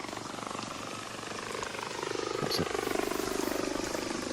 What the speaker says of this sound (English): I can hear another drone.